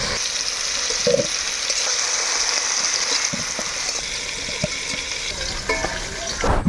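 Banana stem (plantain pith) frying in a pan with turmeric and salt, giving a steady close sizzle with occasional stirring scrapes and no voices over it.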